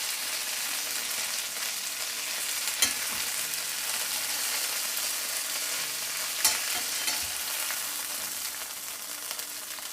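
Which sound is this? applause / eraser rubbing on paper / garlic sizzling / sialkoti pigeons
garlic sizzling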